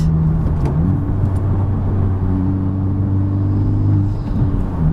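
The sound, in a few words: car driving and shifting gears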